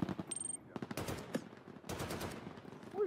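Video game gunfire, bursts of rapid automatic shots and single cracks crowding together, then a short pause before another volley, fairly faint and close, with quiet speech-like sounds in between.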